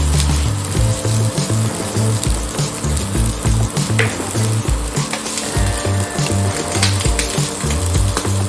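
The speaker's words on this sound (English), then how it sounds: "Now let's add the coconut, grated coconut to it. Saute it nicely." Grated coconut sautés in a hot pan for Goan chicken xacuti, a dense loud crackling sizzle with rhythmic scraping strokes of a spatula, close and continuous without any talking.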